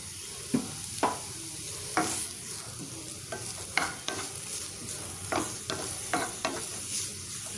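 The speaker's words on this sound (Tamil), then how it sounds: "இப்போ இந்த வெங்காயத்தை கொஞ்சம் நேரம் வதக்கிக்கலாம்" Two medium onions, finely chopped, sauté in a pan: a soft continuous sizzle runs under repeated sharp scrapes and taps of a spatula stirring them, close and fairly clear.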